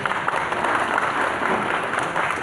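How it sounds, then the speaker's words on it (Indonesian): A seated audience at an Indonesian government talk on supporting halal small businesses claps together, a brief, even burst of applause lasting a couple of seconds with no speech over it. "Tepuk tangan."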